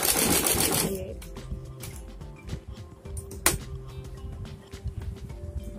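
An electric sewing machine stitches a straight seam on a kurta pajama, a steady mechanical whirring and clatter close by after a brief louder burst at the start, with a sharp click midway.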